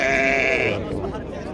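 A sheep bleats loudly and close at a weekly livestock market for sheep and goats, one drawn-out wavering cry that fades as market chatter continues underneath.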